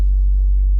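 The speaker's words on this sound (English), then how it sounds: "Now you can hear some ACs or something." Air conditioning units hum steadily in a quiet setting, a continuous low throbbing drone with no voices.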